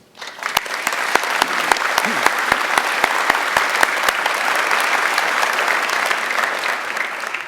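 A large audience breaks into sustained applause at a university chancellor's inauguration, dense steady clapping swelling in after a brief quiet start and holding loud, with a few sharper individual claps standing out early.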